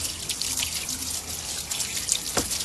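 Water from a garden spray head, like a shower head, pours steadily over jet ski mechanics to rinse off salt, a constant close hiss and splatter with small drips breaking through.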